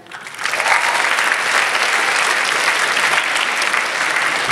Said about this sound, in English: let's give a warm round of applause to Stephen Lim